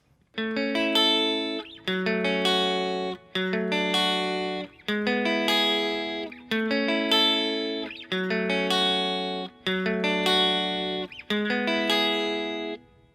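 An electric guitar plays the chord progression of a song, with strummed, sustained chords in a steady repeating pattern, each ringing out before the next, loud and alone.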